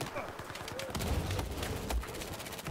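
Rapid bursts of gunfire from a weapon in the Battlefield 4 multiplayer video game crackle through a dense, noisy mix of game sounds, with a voice talking over the shots.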